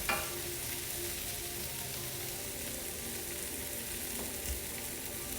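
Brussels sprouts char in a hot pan with a dense, even sizzle and hiss throughout, close and steady, with a faint knock near the end and no talking.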